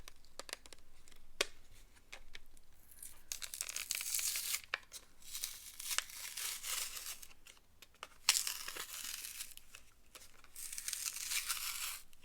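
Packaging around office supplies is torn and crinkled open, with repeated close, crisp rips and crackling plastic rustles in an irregular rhythm, alone and fairly soft.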